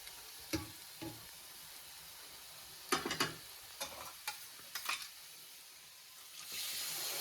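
Masala frying in oil, stirred by hand in a village kitchen, a steady low sizzle broken by scattered sharp scraping and stirring clicks, close by, and a louder sizzle rising near the end.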